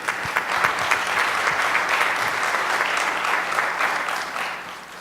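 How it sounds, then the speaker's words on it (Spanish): Sustained, even applause from an audience at a city-building forum greeting a Coparmex representative, a steady wash of many hands at moderate loudness that eases slightly toward the end. "a quien pido un aplauso para ella,"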